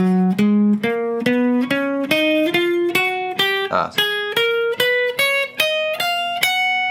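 A plucked guitar climbs a major scale note by note at a steady pace, each tone clear and ringing, played alone with no voices.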